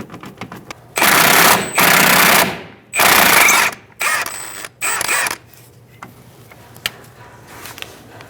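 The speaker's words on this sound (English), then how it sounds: "We're going to use a 17mm socket and a 17mm wrench, and we're going to take out this top bolt." A 17mm long socket on a ratchet working a top bolt loose on a 2014-2018 Subaru Forester 2.5L H4 during rear CV axle replacement, with several loud bursts of mechanical clicking separated by short pauses, close up.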